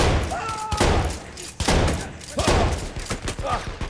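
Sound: shotgun fire in video game Battlefield 1

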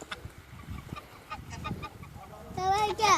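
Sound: geese honking

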